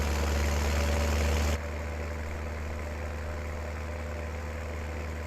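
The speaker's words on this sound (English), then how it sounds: "It's still quite a loud tractor" A tractor in a farming video game, forest green with black rims, idles loudly with a steady low drone that drops slightly in level partway through and then holds.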